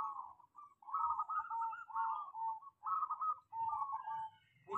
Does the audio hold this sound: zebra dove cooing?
yes